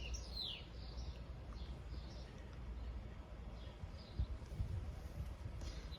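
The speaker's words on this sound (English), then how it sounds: "I love listening to the birds." Faint, distant bird chirps come in short high bursts over a quiet, steady background hum.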